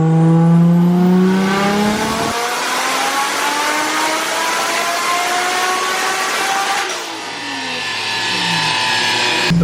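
A Nissan Skyline on a dyno screams through a single full-throttle pull, its pitch climbing steadily before a brief dip and a renewed rise toward the end, loud and close with no talking.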